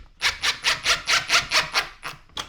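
A screw being drilled into wood during a rental repair, heard as a rapid series of about nine rhythmic scraping, grinding bursts close by, followed by a couple of slower strokes as the wood gives.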